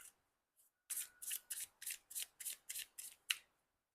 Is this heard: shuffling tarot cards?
yes